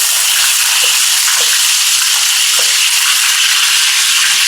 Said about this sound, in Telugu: ఇలా కొంచెం నిమ్మకాయలు కొంచెం షేడ్ మారే వరకు కొంచెం ఫ్రై చేసుకోవాలి